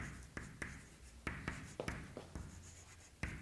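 Writing on a classroom board makes a series of sharp taps and scratchy strokes in an irregular rhythm, fairly faint, with no talk.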